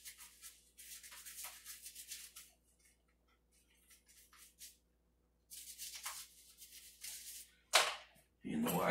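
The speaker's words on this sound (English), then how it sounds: "the wife's actually got a brush, a toothbrush up here specifically for Geodes" A toothbrush scrubs a wet geode in short, brisk bursts of bristle scratching, pausing between strokes, then ending with a sharp louder scrape and a clatter.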